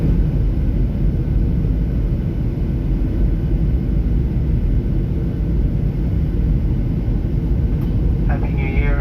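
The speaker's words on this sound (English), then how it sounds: "when the new year ticked over, we were just landing in Melbourne" Cabin noise inside an airliner landing in Melbourne, a loud, constant broadband engine and air roar filling the space without letting up, with a faint chime or tone near the end.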